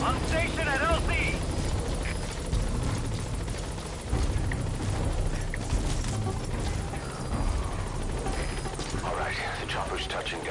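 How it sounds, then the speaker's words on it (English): A helicopter touches down in Metal Gear Solid V: The Phantom Pain, its loud rotor wash and engine roar filling the scene while game voices and effects play over it. "Alright, the chopper's touching down."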